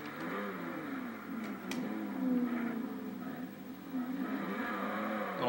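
A 1995 Volkswagen Corrado VR6 engine roars steadily through a short burnout, a sustained mid-pitched drone with rising and falling rev swells, heard from inside the car with no talking.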